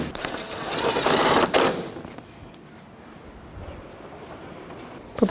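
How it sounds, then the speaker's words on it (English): A ratchet tightening bolts on a Toyota RAV4 bumper cover: a loud, rapid clicking whirr for about a second and a half, then a quieter mechanical rattle and faint handling noises nearby. "And now we can put our bolts back in."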